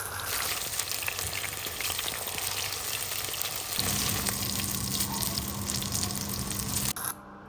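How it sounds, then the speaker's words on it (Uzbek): Steady, dense sizzling of food frying in hot oil, continuous and close, with a brief clatter near the end. "Tillarang bo'lgungacha qovuramiz."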